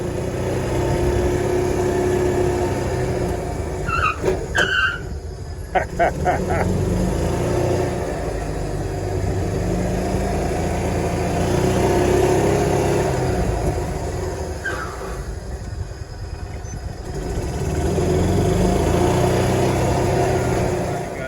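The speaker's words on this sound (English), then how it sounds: "We got that golf cart going one more time." A Club Car DS golf cart with newly fitted drum brakes runs with a steady mid-pitched engine drone that swells and eases across the clip, with a voice briefly heard over it.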